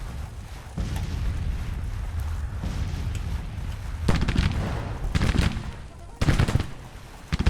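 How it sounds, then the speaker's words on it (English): Battlefield gunfire in a video game as a regiment takes fire: continuous rumbling volleys with several sharper, louder bursts breaking through near the end. "The 2nd Massachusetts is taking fire."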